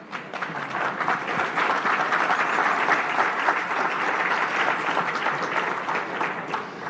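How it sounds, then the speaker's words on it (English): A conference audience gives sustained applause after a joint declaration by heads of UN bodies, with dense, even clapping throughout and no speech. "Strong words indeed, and I think worth an applause here."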